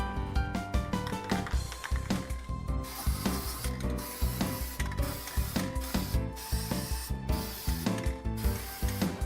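A spray can of high-temperature paint sprays the inside of a grill firebox in rapid pulsing bursts with rattling, loud and close, over a continuous rhythmic mechanical backdrop.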